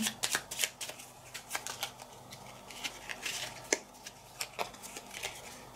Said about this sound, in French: Et là je pioche donc mes 2 cartes.